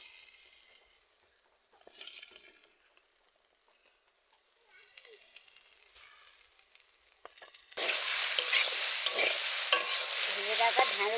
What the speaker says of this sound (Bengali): ভেজে রাখা ঢেঁড়সগুলো আমি দিয়ে দিচ্ছি।